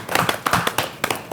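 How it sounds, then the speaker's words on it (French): Studio audience at a French sports television broadcast clapping, a small group producing scattered, fairly close claps in an uneven rhythm for a moment. "Je vous demande de vous applaudir."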